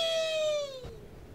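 A cat gives one clear, close meow that slides downward in pitch and fades into faint room noise.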